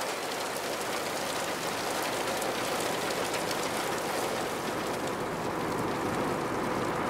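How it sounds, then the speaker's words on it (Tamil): Heavy rain from Cyclone Fengal pours steadily on Korattur, a dense, unbroken hiss that fills the whole stretch at close range. No voices. "கொரட்டூர் பொறுத்தமட்டில் இந்த பகுதியில் தற்போது கனமழை தான் பெய்து வருகின்றது."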